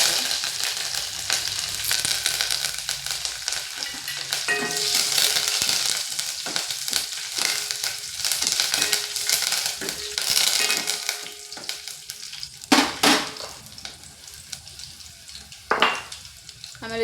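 Halved chillies and curry leaves sputter in hot oil for garlic rasam, a loud crackling sizzle with bursts of popping and a few sharp clinks from stirring near the end.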